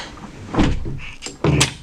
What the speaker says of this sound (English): you always want to make sure you lock that door back